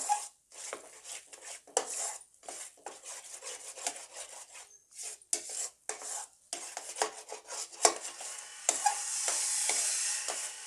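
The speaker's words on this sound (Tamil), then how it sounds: "நீங்கள் நல்லா அகலமான பாத்திரத்தில் வச்சு கிளறினா தான் இதை நல்லா கிளற முடியும்" Milk being stirred and scraped in a wide pan while being cooked down into milk powder: repeated close scraping and rubbing strokes in an uneven rhythm, with a soft steady sizzle building near the end.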